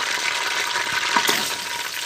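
Mutton sizzles in hot oil in a karahi, a steady crackling fry with a brief stirring scrape partway through, close and moderately loud with no voices.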